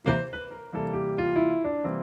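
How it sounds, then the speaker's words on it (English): A short melodic run of a few sustained single notes of a dominant bebop scale on a pitched instrument, clear and close, moving stepwise with no voices. "So we can fix this with the dominant bebop scale,"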